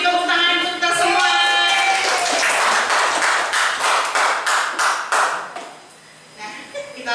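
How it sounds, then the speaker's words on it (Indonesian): Applause from teachers at a school session, a burst of hand clapping that builds and then fades out, close, with a voice talking over the start. "tepuk tangan untuk kita semua"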